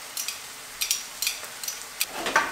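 Pork and minced garlic frying in a pan while being stirred, with short bursts of crisp sizzling and scraping that come in uneven pulses, close and fairly loud.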